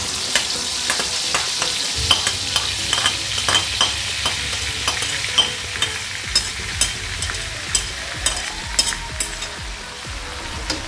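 Sambal chili paste sizzles and fries in oil in a pan while a spoon scrapes and stirs in steady, repeated strokes, close and alone with no talk.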